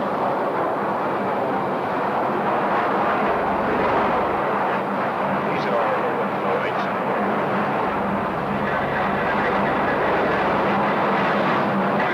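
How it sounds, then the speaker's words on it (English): A steady, roaring rumble of jet engines inside a United Airlines Boeing 727 cabin on a late-1960s training flight, with a voice speaking over the drone. "This is a regular 727 jetliner."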